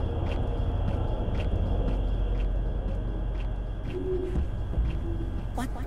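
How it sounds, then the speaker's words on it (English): A cartoon owl hoots a few times at moderate distance over a busy background of music and ambient noise, with no clear talking. "That was an owl!"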